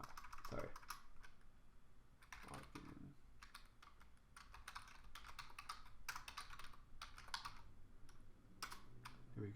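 Fingers tap out a password on a computer keyboard in short, quiet bursts of clicking keystrokes with brief pauses, close up and soft, with no talking.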